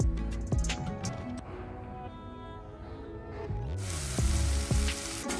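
Spice paste hitting hot tempering in a wok, with a loud close sizzle that surges toward the end over clattering and scraping.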